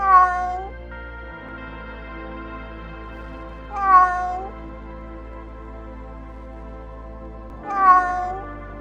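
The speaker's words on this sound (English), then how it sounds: "you hear the cat meow." A cat meowing three times at roughly even intervals, each call clear and drawn out, with quiet pauses between.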